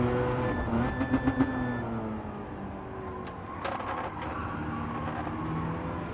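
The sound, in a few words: Mazda RX-7 redline beeping in Gran Turismo 7 video game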